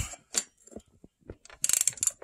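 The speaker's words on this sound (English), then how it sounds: "you want your tightening to be clockwise on this lower balance shaft bolt." A ratchet wrench tightens the lower balance shaft bolt on a Porsche 944 during a timing belt replacement, giving a few quiet, close clicks followed by a denser run of rapid ratcheting clicks, with no voice.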